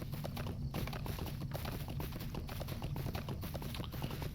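Horse hooves clip-clop steadily in the fantasy online game Lord of the Rings Online, a brisk continuous trotting rhythm of close, even hoofbeats with no talking over them.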